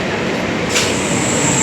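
A train pulls into a suburban railway station on the Sealdah–Bangaon line with a loud, close rumble, and a high metallic whine rises partway through and holds to the end.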